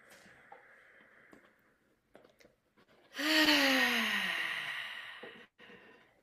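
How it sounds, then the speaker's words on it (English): During guided meditation, a long audible exhale follows quieter breathing, close to the microphone, with faint background sounds before and after. "We'll just take 2 more deep breaths in and out together."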